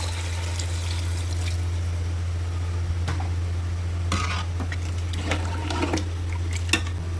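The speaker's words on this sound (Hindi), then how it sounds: "अब इसमें हम पानी शामिल कर देते हैं।" Water poured into goat head curry frying in a pot, a steady wet trickle and stream over a constant low cooking hum, with brief louder splashy bursts near the end.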